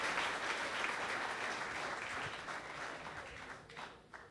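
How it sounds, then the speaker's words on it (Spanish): A church congregation applauds during a service, a steady wash of many hands clapping that holds for several seconds and then thins and fades near the end. "¿Cuántos aplauden el nombre del Señor?"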